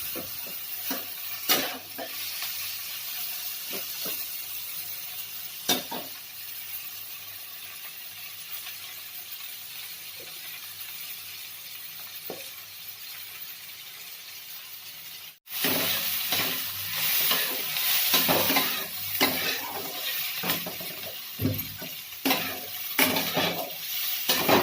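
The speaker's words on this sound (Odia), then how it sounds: "ଭଲ ଭାବରେ ଆମେ ତାକୁ ଭାଜିବା ଯେମିତି ବିଲାତି ପୁରା ସଫ୍ଟ ହେଇଯିବ ଭଲସେ ସିଝିକି।" Tomatoes sizzle softly in a pan for an egg soya badi dish, with a spoon scraping and stirring at irregular intervals. The frying grows louder and busier partway through, and no voices are heard.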